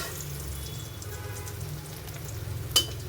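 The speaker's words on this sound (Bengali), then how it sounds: "মাছ ভেজে নিচ্ছি, পটলও ভেজে নিচ্ছি" Pointed gourd (potol) and hilsa fish fry in hot oil, a quiet steady sizzle with a sharp clink of a utensil near the end.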